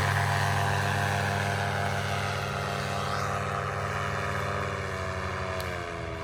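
A paramotor trike's propeller engine drones loud and steady during takeoff from a farm field, a constant buzzing tone that slowly shifts in pitch and fades slightly toward the end.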